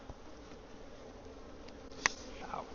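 Honey bees buzzing around an open beehive, a faint steady hum with a sharp brief knock partway through.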